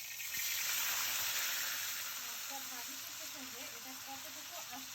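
Tilapia fish frying in hot oil in a pan, a continuous moderate hiss and crackle that swells early then settles to a steady fry, with no speech.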